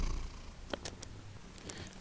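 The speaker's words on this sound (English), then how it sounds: "She's purring so loud." A cat purrs softly and steadily, close by, with a few brief higher rustles and clicks over the low rumbling purr; no one talks.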